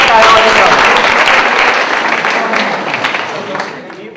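Loud, dense applause from an audience at a quiz event where a winner receives a meal coupon. It begins full and steady, then gradually thins and fades over a few seconds.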